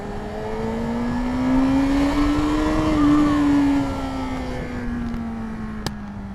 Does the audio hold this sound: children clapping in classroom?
no